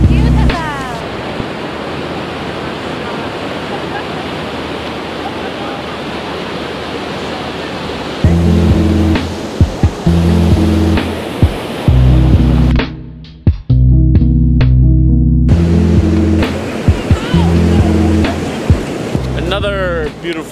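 Surf rolling onto Torrey Pines Beach in San Diego, a steady broadband wash of waves with periodic low thumps and gusts, loud and close, with no voices.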